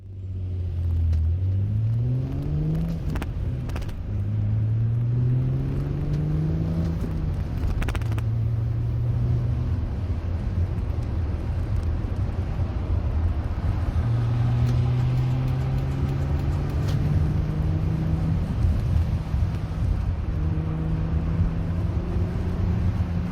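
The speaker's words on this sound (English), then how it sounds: "when you shift, you add too much gas, and that causes the revs to drop, which reduces speed very quickly." A Toyota car with a manual transmission drives along, its engine revs repeatedly climbing then dropping as gears shift, over steady road rumble, continuous and close with no talking.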